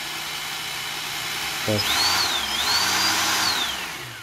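Small motor from an old printer spun by hand as a generator, a steady whir that rises in pitch and sweeps up and down, with a brief spoken word near the start.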